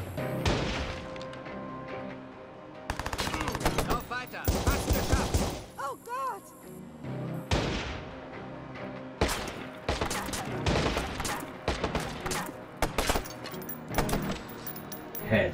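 Gunfire from the PS3 video game Watch Dogs comes in sharp bursts and rapid volleys, scattered across the stretch with short lulls between them.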